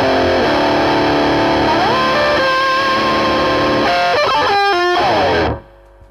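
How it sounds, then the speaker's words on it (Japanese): A ROWIN Holy War high-gain distortion pedal with its boost switched off gives a standard, heavily saturated electric guitar tone. Sustained chords and a short run of choppy notes play loud and steady before ringing out and cutting off near the end. "ブーストオフのサウンドはスタンダードなディストーションサウンドです。"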